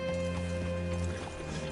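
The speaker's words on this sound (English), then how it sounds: "Hitch your horse up here." Horse hooves clip-clop steadily in a video game, moderately loud and continuous beneath sustained tonal background music.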